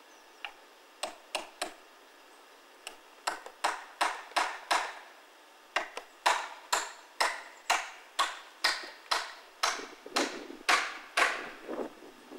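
Sharp hammer blows drive nails to fix an owl nesting box to a tree outdoors, striking in short irregular bursts of two to five hits with brief pauses, ringing clearly against a quiet background.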